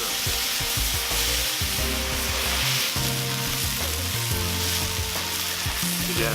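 Cheeseburgers sear loudly on a Lodge 14-inch cast iron griddle, a dense, steady sizzle and crackle of fat and juices running unbroken throughout, close and alone with no voices.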